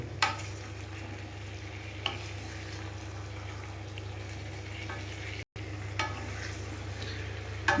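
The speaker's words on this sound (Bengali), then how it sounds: "ফুলকপিগুলো ভালো করে মশলা মাখাবো, তার জন্য নেড়ে নিচ্ছি খুব সুন্দর করে।" Cauliflower is stirred with spices in a pan while cooking moong dal for a bhoga offering, giving a soft steady sizzle with occasional spoon knocks and scrapes, near, with a low hum under it and a very brief dropout.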